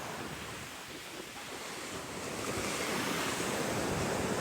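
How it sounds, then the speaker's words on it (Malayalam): Ocean waves at Kizhunna beach wash in as a steady broadband roar with wind buffeting the microphone, swelling louder in the second half, with no voices. "കിഴുന്ന ബീച്ച് കേട്ടോ"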